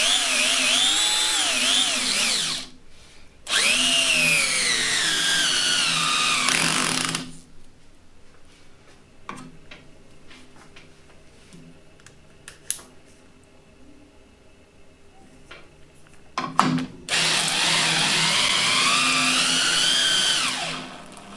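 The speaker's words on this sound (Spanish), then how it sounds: "El Skill en su par máximo." A Skil 6224 cordless drill drives a screw at maximum torque, with three loud whining motor bursts rising in pitch, separated by quiet pauses with faint clicks, all close up.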